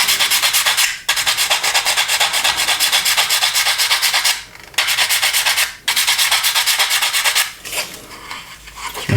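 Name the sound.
sandpaper sanding plastic model aircraft wing tips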